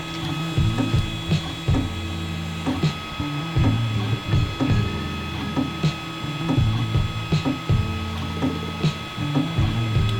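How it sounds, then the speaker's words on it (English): A 3D printer with a skipping motor whirs and stutters while trying to print straight lines, its stepper motor making repeated short buzzing moves broken by clicks and knocks in an uneven mechanical rhythm, loud and close. "It's just printing straight lines right now. Well, it's trying to anyway. Yeah, see how it's literally just skipping in place there."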